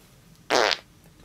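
Junior the puppet lets out one short, loud, buzzing fart in a dark bedroom at bedtime. It lasts about a third of a second against a quiet room.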